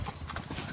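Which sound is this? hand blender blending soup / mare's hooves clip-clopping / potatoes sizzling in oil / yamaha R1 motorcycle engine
mare's hooves clip-clopping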